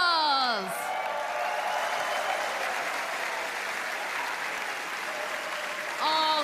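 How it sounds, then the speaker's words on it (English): A large arena crowd applauds the grand final finalists of the Eurovision Song Contest in Vienna, a sustained roar of clapping lasting several seconds, with a presenter's voice just before and after. "Give them a round of applause!"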